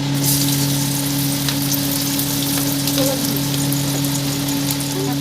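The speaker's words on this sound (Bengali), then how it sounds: "এবার আমি কড়াইয়ে তেল দিয়ে দিয়েছি, একই তেলের মধ্যে দেবো রসুন কুচি" Chopped garlic fries in oil in a wok, a dense, steady, loud sizzle with a constant low hum beneath, no speech.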